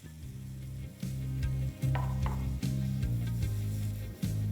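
Tomatoes tip into a pan of frying spice mix for an egg snack, setting off a steady close sizzle with brief stirring scrapes and soft clatter throughout.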